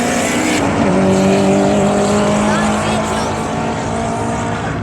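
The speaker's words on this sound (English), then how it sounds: "Ryan Walton with the Civic" A Honda Civic drag car in the front-wheel drive class accelerates down the strip at an Elvington Airfield drag racing event, its loud engine note droning steadily and climbing slightly as it pulls away, with an announcer's commentary running over it.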